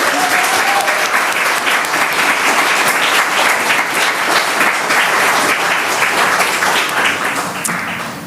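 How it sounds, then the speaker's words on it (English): Loud, sustained applause from an audience at a showcase event, many hands clapping densely and evenly before tapering off at the end. "if you would just join me in giving them a warm round of support and applause"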